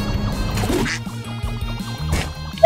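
A pea shooter duck in the Tadpole Tales video game quacks repeatedly, loud and close, over a rhythmic game soundtrack.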